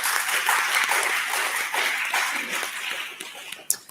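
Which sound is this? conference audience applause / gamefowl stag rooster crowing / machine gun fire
conference audience applause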